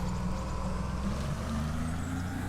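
A video game speedboat engine hums at a constant pitch, a steady drone, loud and continuous, with a faint windy hiss.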